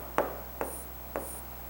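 A pen writes a maths answer on paper in three short, scratchy strokes with brief pauses between them, close and quiet with no voices.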